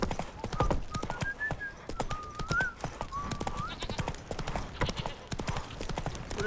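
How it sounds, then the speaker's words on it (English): Hooves of a galloping horse clip-clop in a fast, steady rhythm in The Witcher 3 video game, with whinny-like tonal calls rising over the hoofbeats and a voice speaking briefly. "Run, Roach"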